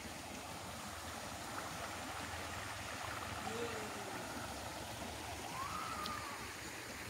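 Water in a quiet stream at Batis ng Kalikasan flows steadily as a soft, continuous broadband rush, with no clear breaks and only faint incidental sounds over the top.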